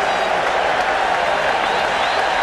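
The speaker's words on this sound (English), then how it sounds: "And this crowd on its feet." Stadium crowd at a Florida Marlins home baseball game, the club's first ever, cheering and applauding on its feet with two out in the ninth inning; a dense, steady roar of clapping and shouting fills the whole stretch, close and loud.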